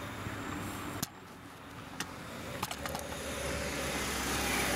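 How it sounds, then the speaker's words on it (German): A brown car drives past at a railway level crossing in Neuss-Holzheim, its engine and tyre noise rising steadily to a close pass, with a few sharp clicks and knocks heard along the way. "Oh, da kommt das braune Auto."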